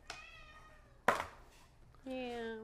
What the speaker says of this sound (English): So Afina likes to meow at the door